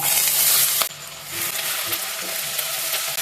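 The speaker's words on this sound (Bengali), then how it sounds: "পেঁয়াজটা হালকা ব্রাউন কালার অবধি ভাজবো।" Chopped onion fries with whole garam masala, a loud burst of sizzle at first that drops to a steadier, close hiss with a few light clinks of stirring.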